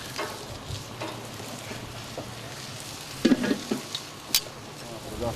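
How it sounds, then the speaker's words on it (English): Sausages sizzle faintly on a hot grill, a soft steady crackle with a few clinks and scrapes of utensils close by. "A good feed by the way of a good old sausage sizzle was had"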